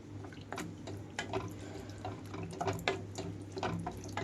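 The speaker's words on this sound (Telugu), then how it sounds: "1 కప్ వరకు అయితే వాటర్ వేస్తున్నాను." About a cup of water is poured into a pan of baby potato and moong dal curry, a soft continuous splashing and trickling with small drips, fairly faint and without talk.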